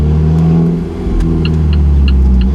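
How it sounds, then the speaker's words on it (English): An Alfa Romeo 4C Spider Italia's engine revs loudly at close range, its exhaust roaring in a deep, continuous low rumble that swells and dips slightly as it is blipped in first gear. "you can instantly hear how loud the exhaust gets"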